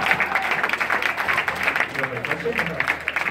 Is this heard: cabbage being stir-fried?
no